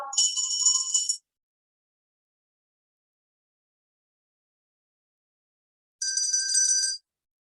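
Two bright ringing bell tones, each lasting about a second, separated by several seconds of silence.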